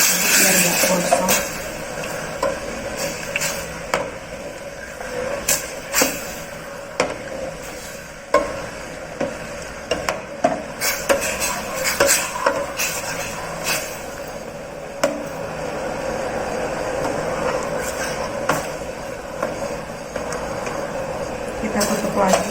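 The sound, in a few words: stirring a boiling sugar mixture in a pot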